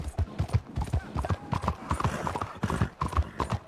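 A young six-year-old horse in Red Dead Redemption 2 walks on close and clear with a steady, even clip-clop of hooves, heard on its own with no talk over it.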